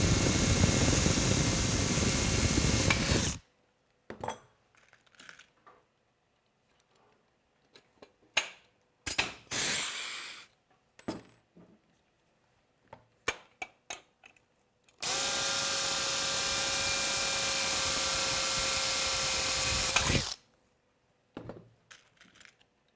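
A power drill boring the last two holes through a built arm beam, heard as two long loud steady whining bursts separated by scattered clatter and handling knocks.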